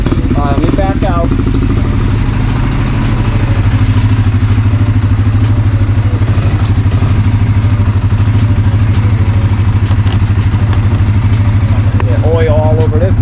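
A CF Moto C-Force 110 ATV engine running loud and close as it backs out, a steady low idling rumble throughout with brief talk over it near the start and end.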